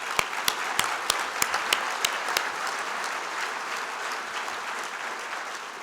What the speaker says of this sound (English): So can we just give all of them a round of applause?